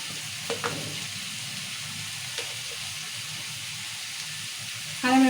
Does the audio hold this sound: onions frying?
yes